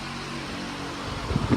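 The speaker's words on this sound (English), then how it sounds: "My fan's going right now." A steady whirring drone of an electric fan running nearby, with a couple of faint knocks near the end.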